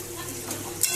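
Pan of roasting cauliflower sizzling steadily, then a sudden brief burst of hiss as water is poured in near the end, close and short.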